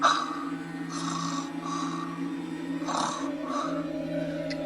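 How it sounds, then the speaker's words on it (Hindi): Slow, rhythmic snoring sits close and fairly quiet, a few drawn-out nasal breaths repeating over a low steady hum as part of a spooky late-night scene. "रत्नेश ऐसा खर्राटा मार के सो ही रहा होगा,"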